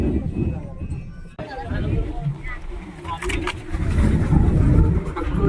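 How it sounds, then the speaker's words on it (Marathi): A car turns around on a village road on the route toward Harihareshwar and Shrivardhan, its engine a steady low rumble that swells toward the end, with voices and background chatter throughout. "गाडी फिरवत आहे"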